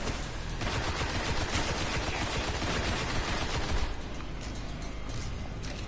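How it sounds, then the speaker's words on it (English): Dense, rapid gunfire from weapons in the video game Destiny, loud and continuous throughout with heavy rattling bursts, easing slightly toward the end. "These guns are so weird."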